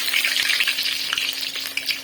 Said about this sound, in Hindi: अभी समोसे भी फ्राई करते